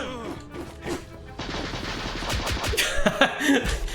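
Bursts of video game gunfire, rapid cracking shots hitting an enemy, dense and fairly loud over a busy game mix with some crashing impacts.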